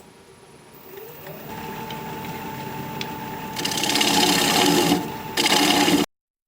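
A bowl gouge ground on a sharpening wheel for wood turning, with a steady motor hum rising into a harsh, grating grind in two bursts before cutting off sharply.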